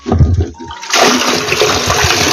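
Water bursts out of a newly opened irrigation pipe in a maize field, starting with a sudden loud rush that keeps gushing steadily and close by, following a few brief knocks.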